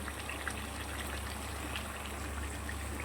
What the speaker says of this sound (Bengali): এবার একটু জল দিয়ে দেবো, খুব বেশি দেব না। জলটা আগে থেকে গরম করা ছিল।